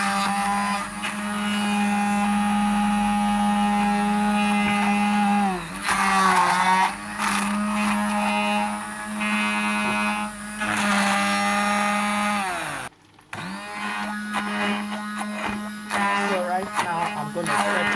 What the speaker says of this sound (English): So right now we are going to start with the blending.